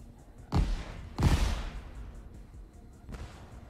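Gunfire in the Crackdown 3 video game, three heavy booming shots with short echoing tails, the middle one loudest and the last one softer.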